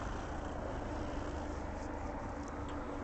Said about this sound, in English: Lots of California helicopters always.